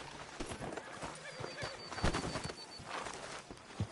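Hooves clip-clop at a walk in the Red Dead game, steady and moderately close, with pigeons cooing and a horse whinnying faintly in the town ambience.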